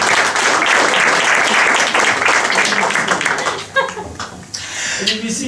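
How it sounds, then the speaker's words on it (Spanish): A concert audience claps loudly for the band members as they are introduced, dense applause that thins and fades near the end while a few voices and laughs come through. "un fuerte aplauso, por favor"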